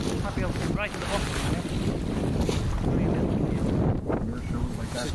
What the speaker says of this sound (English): This is gusting up again.